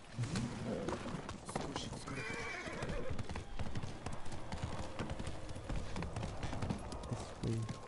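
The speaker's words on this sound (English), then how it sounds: "Where's my horse?" Steady clip-clop of horse hooves trotting with occasional whinnies in Ghost of Tsushima, layered over busy game ambience and background music, loud and continuous throughout.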